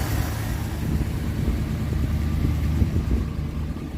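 A 1965 Dodge D100 pickup truck engine idling up close, a steady low rumble with a slight lumpy pulse, running alone without talk.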